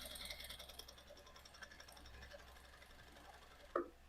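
Domestic sewing machine stitching the lining of a blouse, a steady close mechanical whir with faint rhythmic needle ticking, ending in a brief sharp clack.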